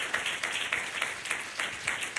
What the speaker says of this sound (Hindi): थोड़ा एक बार अच्छे से ताली बजा कर प्रभु का धन्यवाद दीजिए।